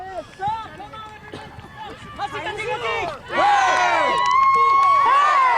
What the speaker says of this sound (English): And the Storm bench cheering them on.